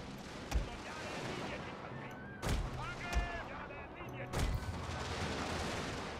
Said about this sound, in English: the enemy fires canister on us